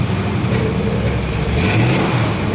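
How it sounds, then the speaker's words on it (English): A small block Chevy V8 revving, a loud, steady rumbling engine note with a slight rise in pitch partway through, heard up close and alone. "So it's not changing much whenever you rev it"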